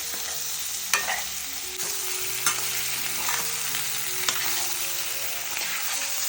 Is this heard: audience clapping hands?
no